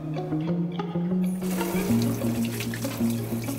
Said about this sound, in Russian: Теперь промыв окорок довольно горячей водой, температура 30-40 градусов.